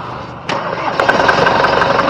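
A Toyota Tavera engine cranks and catches with a sharp start at about half a second, then settles into a steady close mechanical running hum, with no talk.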